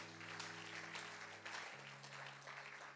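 A church congregation applauding at a French-language service, steady crowd clapping across the whole stretch, with a sustained organ or keyboard chord humming beneath it.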